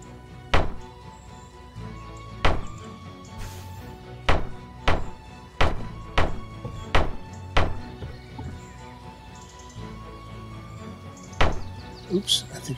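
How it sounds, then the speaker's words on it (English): Pieces being banged into place in the video game Medieval Engineers, heard as a series of about a dozen sharp, hollow wooden thunks at irregular intervals, close and distinct over a low background. "Let's bang these in."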